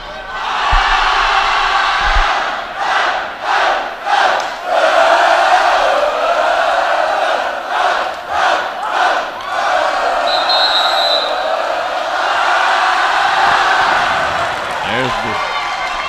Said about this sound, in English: Griffin cheer.